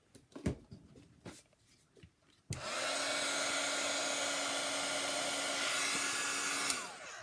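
A handheld heat tool blows hot air for a card-making craft project, switching on abruptly after a few soft taps and handling sounds and then holding a steady, close whooshing hum before cutting off.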